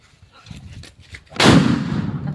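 A firecracker goes off with one loud, sharp blast that rolls into a booming rumble and lingering crackle after a brief stretch of quiet, faint noises.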